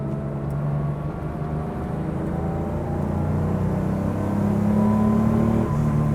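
Engine of a 1972 Porsche 911 Carrera RS 2.7 rising in pitch under steady load, a continuous harmonic drone with a brief gear-change dip near the end, heard from inside the car.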